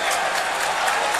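Home fans applauding their team at a football match between Artmedia Bratislava and Celtic, a dense, steady wash of clapping from a large crowd.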